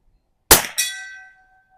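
Bullet striking a silver steel plinking target at distance: two quick metallic clangs in close succession, the second ringing out with a sustained tone that fades over about half a second.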